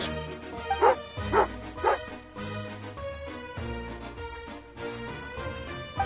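In the video game Genshin Impact, a dog gives three quick yappy barks near the start, set over background game music with no talk.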